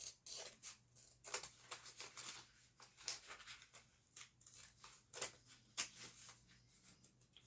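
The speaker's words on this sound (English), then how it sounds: "I'm just going to start doing that with my scissors here." Scissors snipping through journal pages a couple at a time, a series of quiet, crisp cuts in an irregular rhythm, close but faint, with soft paper rustles between them and no talking.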